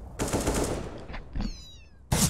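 A cat gives a short, thin meow between loud, sharp bursts of rapid gunfire during a Counter-Strike match.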